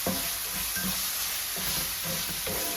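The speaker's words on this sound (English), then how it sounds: "after a quick saute, we're going to move it back to the dish" Onions and peppers sauté in a hot pan for salmon patties, a continuous loud sizzle broken by a few scraping stirs, with no talking.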